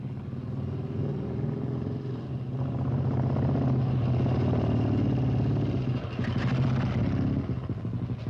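A Bullet motorcycle engine runs steadily and close, a dense low rumble with a throbbing thump that swells slightly and holds throughout.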